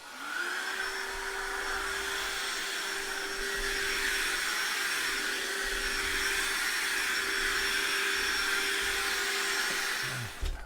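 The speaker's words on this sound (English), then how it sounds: "This is one of my favorite vacuums, not just for a camper, but favorite ones at all." A DeWalt 20 volt cordless vacuum cleaner runs inside a camper, giving a steady, even whine for about ten seconds with no talking before it cuts off.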